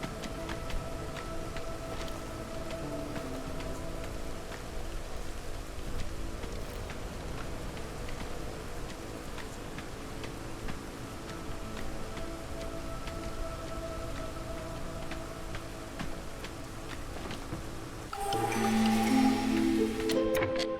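Soft, steady drizzle in the video game Against the Storm, a continuous faint patter with scattered drips that runs unbroken before a louder burst of game interface sounds near the end.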